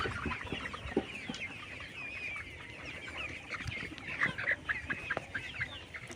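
A flock of 72-day-old layer chickens clucks and chatters continuously at close range, with scattered sharper calls rising over a busy, steady background.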